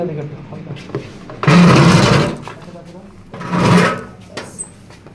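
A Juki LH-3528A-7 two-needle industrial sewing machine runs in two loud bursts, the first about a second long and the second shorter, with quieter gaps between them and faint speech nearby.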